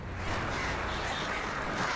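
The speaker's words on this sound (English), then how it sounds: "Goddamn birds." Crows caw in an Alan Wake scene, harsh calls blending into a dense, loud wash of noise that fills the whole moment.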